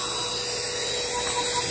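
A small handheld battery blower compatible with DeWalt packs whirs steadily at close range, an even high-pitched fan whine with no pauses across the brief moment.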